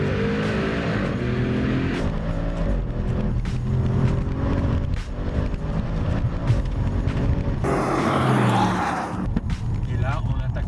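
A race car driving fast around Circuit Paul Ricard, its engine roaring continuously with repeated shifts and revving, close and loud throughout, with a harsher rush of noise near the end.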